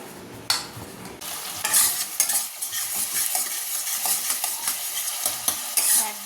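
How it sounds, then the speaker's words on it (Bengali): Bengali fish curry with green chilli, tomato and onion cooking in a pan, a close, busy sizzle with frequent spatula stirring and scraping against the metal. "একদম কাঁচা লঙ্কা টমেটো পেঁয়াজ দিয়ে করছি মাছের ঝালটা।"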